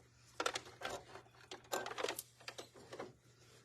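A sewing machine back stitching a tiny seam on a small fabric carrot, heard as quick bursts of mechanical stitching with short pauses, close and moderately loud, with no talking.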